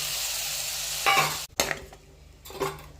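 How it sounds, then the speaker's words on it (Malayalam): Masala is added to a pan and stirred: a brief, close sizzle followed by a few sharp scraping stirs, with quieter frying between them and no voices. "അതിനുശേഷം മസാല ഇട്ട് ഒഴിക്കുക"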